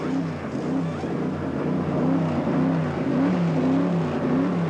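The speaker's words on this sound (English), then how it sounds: "Let's just listen to the sounds of NASCAR racing." NASCAR race cars in the 1999–2000 season's third round howl along pit lane during pit stops. Their engines form a loud, continuous roar with rising and falling pitch sweeps as cars pass, and no voices are heard.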